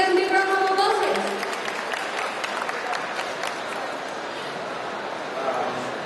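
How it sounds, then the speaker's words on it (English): An audience at a conference stage session breaks into applause that swells into a broad, continuous wash of clapping and crowd noise, with speech and cheering over the first second before the clapping carries on alone. "Please give them a big round of applause, please."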